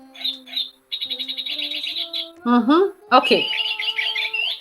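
Chirps and squawks from a little bird sound close and clear in a repeated warbling pattern, then harsher squawks follow. A voice speaks briefly, and the calls may be an imitation.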